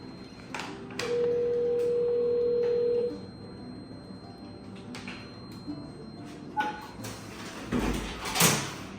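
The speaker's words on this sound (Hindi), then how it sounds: "उन्होंने ऊपर से अपना कोड देके उन्होंने दरवाज़ा खोल दिया" A door is unlocked remotely from upstairs with a code, heard as a tonal buzz lasting a couple of seconds, then scattered clicks, knocks and a clatter as the door opens, in a quiet entryway.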